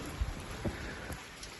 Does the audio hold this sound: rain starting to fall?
yes